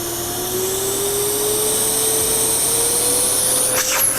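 A Festool CT26 dust extractor on its manual setting runs steadily with a broad airy whoosh and a faint tone rising slowly in pitch, continuous and fairly loud throughout.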